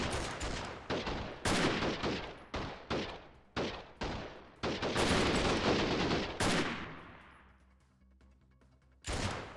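Close, loud gunshots in the guerrilla warfare game Freeman: Guerrilla Warfare, a string of sharp reports spaced about half a second apart, then heavier overlapping fire that fades out before one last shot.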